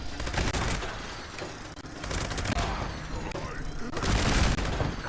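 Automated turrets firing in Fallout 76 against super mutants, dense rapid bursts of gunfire in several loud volleys with short pauses between, mixed with booms and a player talking over the shooting.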